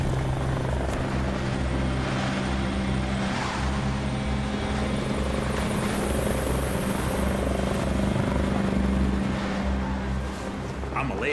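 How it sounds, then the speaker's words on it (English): Helicopter rotor thumping loud and close, a continuous heavy chop with engine drone that feels directly overhead during a snow rescue, with voices faintly audible underneath. "And you could hear this helicopter closer and closer as if it's just right over our head."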